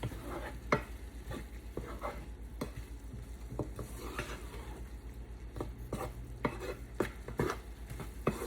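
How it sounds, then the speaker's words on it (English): Jerk chicken casserole ingredients being stirred together in a bowl or pan, with soft scraping and clinking utensil strokes at an uneven rhythm over a low steady hum, close and moderately quiet, no speech. "So just mix that all together and make sure that everything is nice the way you like it"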